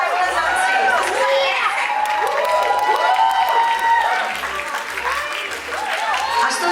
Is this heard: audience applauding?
yes